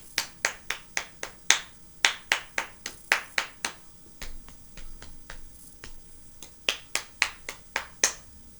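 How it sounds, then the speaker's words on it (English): Body percussion of finger snaps, claps and lap taps played alone in a steady rhythm, about two dozen crisp close hits with a brief pause in the middle before the pattern resumes. "And you could even decide to clap and tap your lap or snap."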